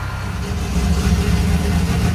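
Drift car engine running steadily after a new oil pump and drive gear install, a loud, continuous low rumbling idle with a slight rise in intensity, no voices over it.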